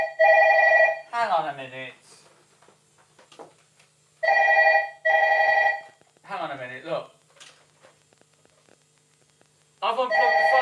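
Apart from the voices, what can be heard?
landline telephone ringing after being unplugged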